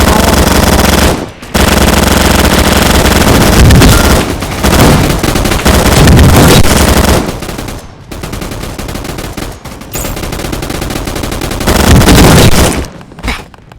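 Rapid automatic gunfire in a Roblox game, loud and sustained bursts of rattling shots with brief pauses between volleys, no voices.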